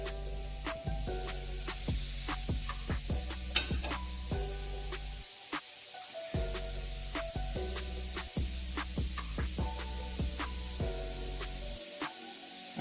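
Pork grills in a pan with a constant soft sizzle and hiss, running beneath a prominent melodic music track for the whole stretch.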